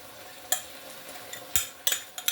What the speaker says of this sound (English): Maybe I could have stirred it a bit better